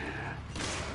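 Dense gunfire from a co-op video game roars as a loud, continuous burst of shots, saturating and close, with no gaps over the short span.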